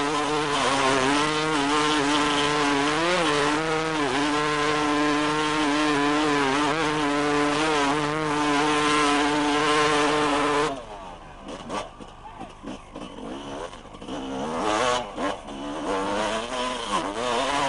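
An enduro motorcycle from 1995 is ridden hard through a muddy bog, its engine loud and continuous at high revs, wavering in pitch, then dropping and picking up again toward the end.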